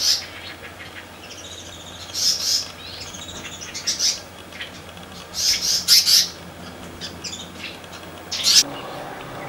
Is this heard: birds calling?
yes